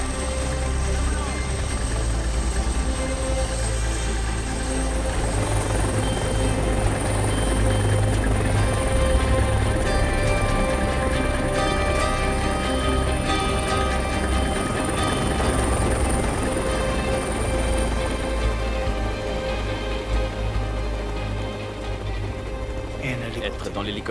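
A firefighting helicopter at a large wildfire drones loudly and steadily for the whole stretch, rotor beat and turbine whine constant, with voices speaking over the noise.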